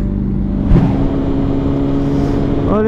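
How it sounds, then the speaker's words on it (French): A quad bike engine runs on a Copenhagen street, a loud close steady motor drone with a brief sharper burst early on and a rising whine at the very end. "Il y a des quads ici, frérot."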